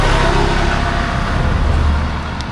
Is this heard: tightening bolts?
no